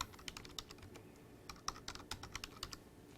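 A password is typed on a computer keyboard: quick, fairly close keystrokes in an uneven run, with nothing else heard over them.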